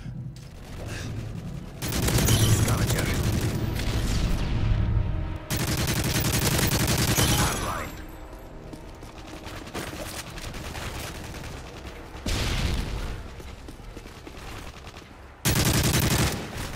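Continuous automatic gunfire and loud battle noise in the video game Call of Duty Modern Warfare 3, dense, rapid bursts that swell and shift in intensity across the whole stretch, with no talking.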